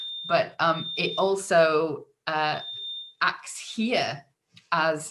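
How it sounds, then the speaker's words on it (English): A home fire alarm gives a thin, steady high-pitched tone for about three seconds beneath a person speaking, then stops while the talk goes on. "sorry, that was my fire alarm going off."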